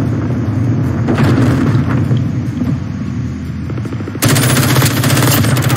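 Rapid automatic gunfire bursts from the video game Call of Duty Modern Warfare, rattling in quick repeated shots over a rumbling background, with a louder, denser volley near the end.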